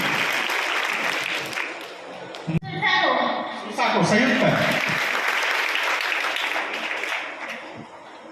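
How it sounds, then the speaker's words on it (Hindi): Sustained applause from a crowd at a Ramcharitmanas general-knowledge quiz competition for children, a dense wash of clapping that briefly parts while someone speaks, then swells again and fades near the end. "शिव जी की जोरदार तालियां बच्चों के लिए।"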